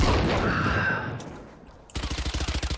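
Automatic gunfire in Valorant, a fading burst followed by a rapid, evenly spaced string of about a dozen loud, close shots.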